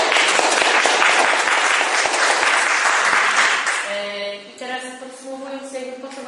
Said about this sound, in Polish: Brawa dla...